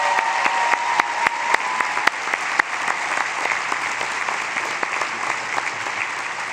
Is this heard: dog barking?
no